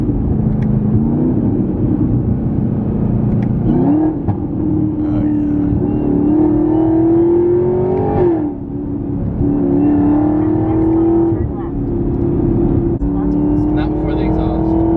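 Chevrolet Camaro ZL1 heard from inside while driving on the street, its engine droning loud and close, pitch climbing through gears with brief dips at shifts, under raised voices.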